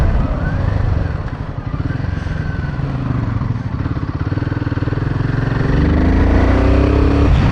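An adventure motorcycle engine thrums close and steady while riding, a pulsing mid-range drone that climbs in pitch near the end as the revs build, with no talking.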